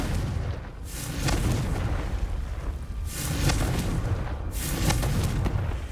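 Booming blasts of the Confringo fire spell from Hogwarts Legacy, three heavy explosive bursts spaced a couple of seconds apart over a continuous rumbling game background, loud and close.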